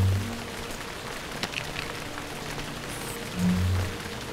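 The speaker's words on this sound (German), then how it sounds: "Da regnet, ist das eigentlich gut so?" Steady rain hissing on surfaces in the LEGO Harry Potter video game, a continuous even patter with a few faint tones over it and no voices.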